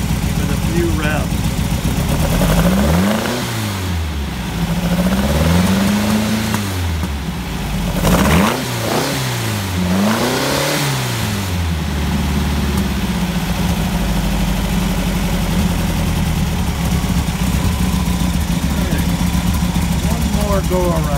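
A Beck 550 Spyder engine idles loudly up close and is blipped several times, each rev rising and falling quickly in a rhythmic series before it settles back to a steady idle.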